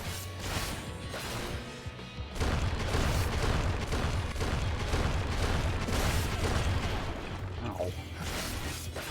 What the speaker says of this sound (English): So what are you doing? Explosions?